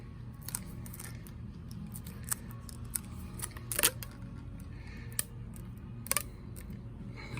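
Tape is pulled and pressed along the edge of a racket, giving sparse sharp crackles and snaps close up over a quiet room, with a louder crinkling burst midway.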